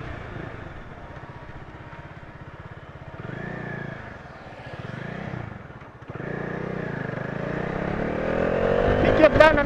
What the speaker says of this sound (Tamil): கண்டிப்பா இந்த ஸ்டாக் எக்ஸாஸ்டே ரொம்பவே நல்லா இருக்கு, லவுடாவும் இருக்கு.